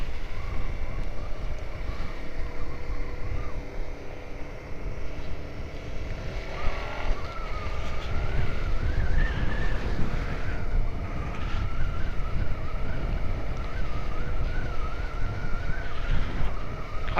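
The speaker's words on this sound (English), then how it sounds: "Except on a day like this, it is bloody windy." Strong wind buffeting the microphone on a road while riding a 2020 Suzuki SV-650 motorbike, a loud continuous rumbling roar with the engine's faint hum underneath.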